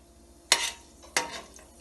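Whole garam masala spices crackle in hot oil, two sharp sizzling bursts with metallic stirring clinks, each fading quickly into a quiet background.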